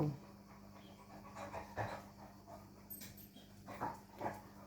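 A dog pants and whimpers softly at a distance over a steady low hum, with a few faint yips and no clear speech.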